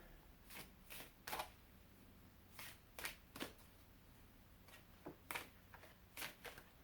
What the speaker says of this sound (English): I'm going to shuffle and pull a few from the Psychic Tarot for the Heart.